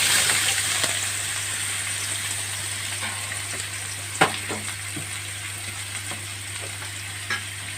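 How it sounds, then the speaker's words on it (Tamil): Onions sautéing in a pan with mustard seeds and garlic for vada kulambu, a steady close sizzle and hiss with a couple of soft stirring knocks, no talking. "இப்போ நம்ம நல்லா வதக்கிக்கலாம். வெங்காயம் நல்லா வதங்கணும்"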